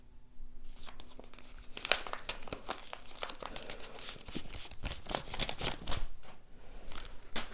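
Paper envelope and package for an Amex Gold metal credit card being torn open and unwrapped: dense crinkling and ripping with sharp tearing snaps, close up and continuous for several seconds, no talking.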